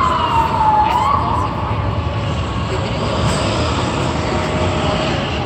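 An STM emergency vehicle passes on a city street during a power situation, with a loud, steady traffic and engine roar and a falling siren-like tone early on, continuous throughout.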